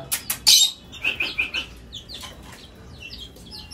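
Pet lovebirds in a cage give a run of sharp, high chirps, loud and close at first, then thinning into fainter scattered tweets.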